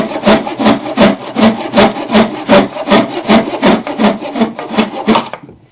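Steady hand saw strokes cut through wood in a regular back-and-forth rhythm, about a dozen rasping pulls, close and loud, before the cutting stops abruptly near the end.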